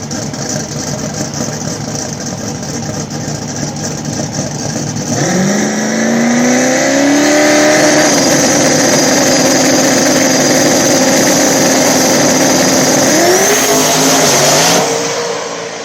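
Drag racing Mustang and Jeep on small tire radials at a track: a loud engine idles, then revs and accelerates hard in a long, rising roar that holds steady before cutting off near the end.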